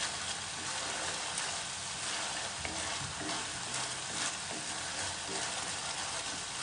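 Veg Schezwan fried rice fries in a pan, giving a continuous dense sizzle with soft stirring scrapes scattered through; no one speaks.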